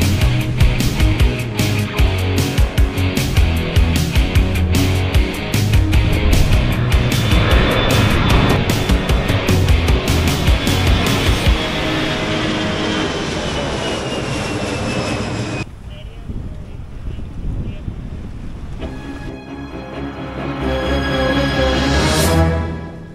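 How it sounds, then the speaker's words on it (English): An easyJet jet airliner takes off from a runway beside a fuel station in southern Spain, a loud sustained engine roar that later thins and fades, with wind and other noise around it. "So we've just got an easy jet taking off right now."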